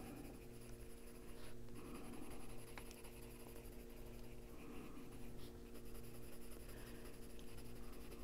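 Chrome Yellow colored pencil shading on paper, a faint, steady scratchy scribble close by, continuing without pause over a low background hum, no voices.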